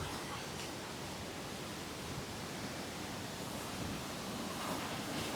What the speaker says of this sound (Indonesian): Dan sebelah kiri ini aliran sungai teman-teman yang menuju ke Curug Cikawah